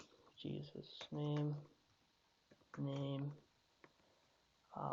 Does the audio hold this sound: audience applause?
no